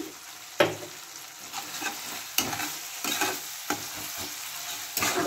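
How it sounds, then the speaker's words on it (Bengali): Spices and onion stir-fried together in a pan, a soft sizzle punctuated by repeated scraping spatula strokes at an irregular rhythm, close and moderately quiet. "মশলাগুলোকে ভালো করে মিক্স করে নেব পেঁয়াজের সাথে"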